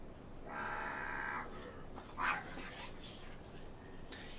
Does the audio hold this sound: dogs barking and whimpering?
yes